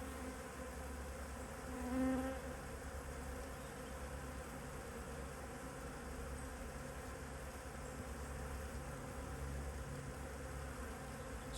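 Honeybees buzzing around a beekeeper's hive: a steady, dense drone from many bees, fairly loud and close, with one bee humming briefly nearer at about two seconds.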